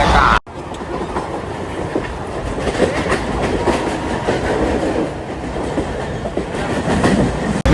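A Mumbai local train rolls along loudly and steadily, its wheels clattering in a continuous rumbling clickety-clack close by, with no talking.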